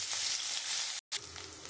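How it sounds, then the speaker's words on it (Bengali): Bay leaf, black cumin and chopped ginger sizzle in hot oil for a fish curry, a loud, close, continuous crackle broken by one brief silent gap before resuming. "এখানে আমি একটা তেজপাতা আর কালো জিরে ফোড়ন দিয়ে দেবো"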